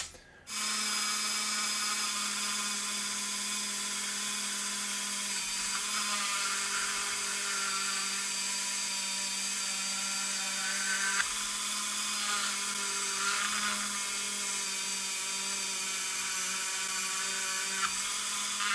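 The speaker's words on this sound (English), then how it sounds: "Might have to go a little bit freehand with that with our Dremel" Dremel rotary tool cutting freehand on styrene for an Old Power Wagon ambulance build, a loud, steady high-pitched whine that starts abruptly and holds for the whole stretch.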